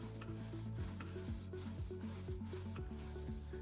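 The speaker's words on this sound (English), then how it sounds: "we want to have a brushing motion and a scrubbing motion to make sure that we're really doing a good job cleaning" Brush scrubbing the freezing cylinder of an Electro Freeze CS-700 soft-serve ice cream machine, a quiet, steady rubbing with rhythmic back-and-forth strokes close by and no talk.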